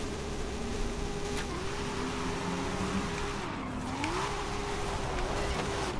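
Car drifting in Forza Horizon 5, a continuous engine tone wavering up and down with slides, gritty tire noise layered underneath, steady and fairly loud without speech.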